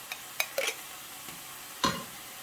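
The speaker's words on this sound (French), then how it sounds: "Allez, on va mélanger tout ça." A few short, sparse scrapes and clinks of a utensil stirring mustard and ketchup into a mixture in a frying pan, with quiet gaps between the strokes and no talk.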